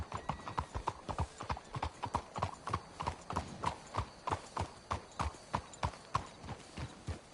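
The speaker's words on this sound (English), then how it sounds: "Let's hitch the horses up ahead." Horse hooves clip-clop in a steady, even rhythm in the Red Dead Redemption video game, close and moderately loud throughout.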